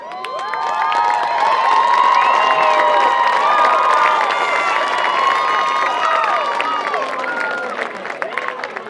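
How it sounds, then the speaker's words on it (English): A high school football crowd at a Great Northern Conference game cheers and applauds for the cheer team, a loud, sustained roar of shouts and clapping that swells and then slowly tapers near the end. "Let's give them another round of applause."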